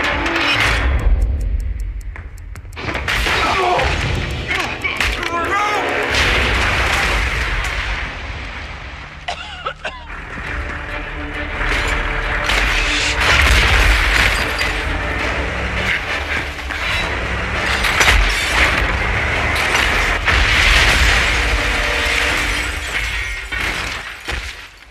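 Explosions tear through a World War II battle scene in a Captain America film, one loud, sustained roar of blasts, crashing debris and rumble that fills the whole stretch with almost no letup.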